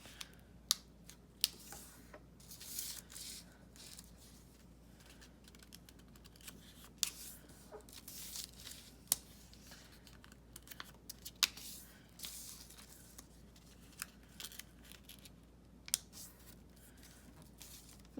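Paper being folded and creased by hand to make a DIY fidget toy, with sharp crinkles and soft snaps scattered irregularly, close and fairly quiet, with no talk.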